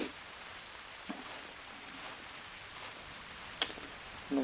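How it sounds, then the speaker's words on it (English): Rain falls outdoors on the opening morning of bow season, a faint, steady patter with a few sharper drops tapping nearby, and no voices. "And of course it's going to rain first thing this morning"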